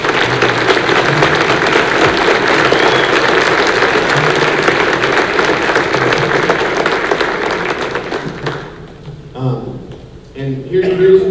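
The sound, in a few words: audience applause for a school band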